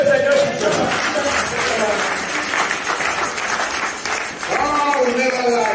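A church congregation applauds in sustained, loud clapping that runs almost the whole time, a broad wash of many hands with a voice briefly speaking over it.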